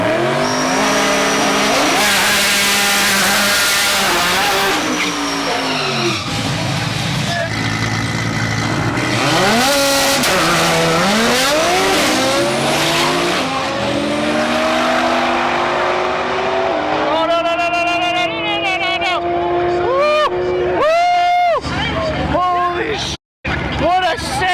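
Race cars battle on a track, engines revving up and down in sweeping pitch changes with tires squealing, loud and continuous throughout while people talk over the action.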